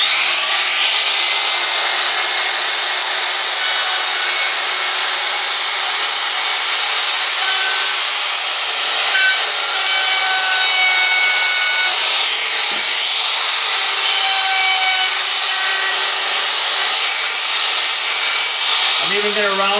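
A router rounds over the edges of a wooden wine glass holder, whining loud and continuous with a high steady tone and slight shifts in pitch as it cuts.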